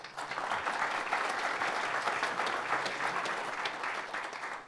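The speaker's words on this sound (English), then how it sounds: "a big round of applause for First Bank" An audience at the Denver Metro SBDC Trout Tank pitch competition final applauds for a sponsor, a dense, even wash of many hands clapping that holds steady from start to finish with no voices over it.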